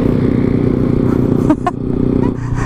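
A motorcycle on a mountain road runs with a loud, steady engine drone nearby, then gives a brief clattering scrape midway.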